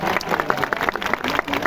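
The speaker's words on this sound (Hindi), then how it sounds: "ये कवि हमारे श्री संतोष साहू जी के लिए जोरदार ताली हो जाए" A short burst of audience applause for poet Santosh Sahu at a village gathering, dense scattered clapping from a small crowd throughout.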